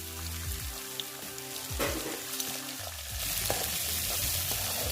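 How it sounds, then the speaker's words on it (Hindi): Peas and carrots fry in hot oil in a pan for an Indian-style vegetable pasta, with a continuous close sizzle, some stirring clatter, and a hiss that grows louder and brighter partway through; no one speaks. "अब इसमें मटर और गाजर को फ्राई करेंगे।"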